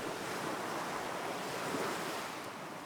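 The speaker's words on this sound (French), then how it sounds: "Vous entendez le bruit des vagues." Ocean waves break and wash up a sandy beach beside cliffs, a constant close roar of surf mixed with wind and no voices.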